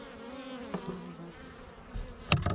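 Honeybees buzzing around the entrance of a hive, a steady hum close by with a few louder passes near the end.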